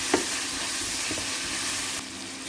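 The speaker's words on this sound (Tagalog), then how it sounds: "Sihulog natin ang ating shrimps. Hindi natin pwedeng patagalin yan kasi hindi siya kukunat." Shrimp dropped into a hot pan for spaghetti, giving a steady close sizzle of frying with a faint clatter at the start and no talking.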